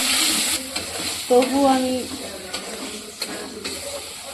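Onion and garlic paste frying in a pan gives a steady close sizzle with stirring scrapes, while a voice speaks briefly over it.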